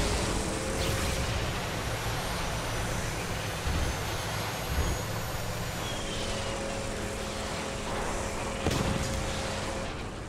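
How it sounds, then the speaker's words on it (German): Helicopter rotor noise in the video game Borderlands 2, a steady broadband engine drone running throughout amid distant gunfire thumps and game ambience. "Da kommt noch ein Helikopter."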